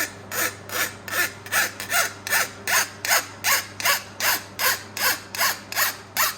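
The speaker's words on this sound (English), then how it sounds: "This is a flat file too." A file strokes rhythmically across a Stihl MS271 chainsaw chain, making about fifteen evenly spaced close rasping passes with no talking.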